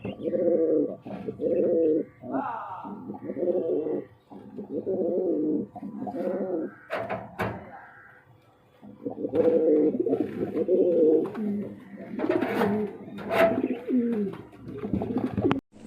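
A breeding pair of black Sirazi pigeons cooing close by in repeated, rhythmic rounds of soft throaty coos, with a few short pauses between bursts.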